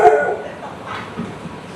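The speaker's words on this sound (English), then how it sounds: "There's a dog." A dog yips and whimpers in short bursts against busy background noise and voices at an eatery in Thailand.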